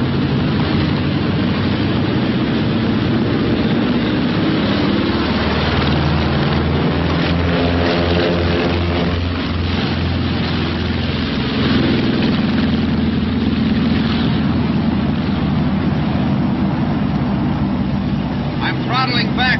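Martin B-26 Marauder piston engines and propellers drone steadily in flight, a loud continuous low rumble with a rhythmic pulsing throb that shifts as the engines are throttled back to normal rated power, with a pilot talking over it.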